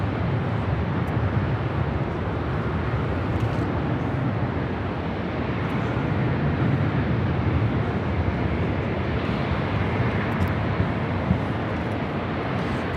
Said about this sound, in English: That is the Emirates A380 Super heading back to Dubai.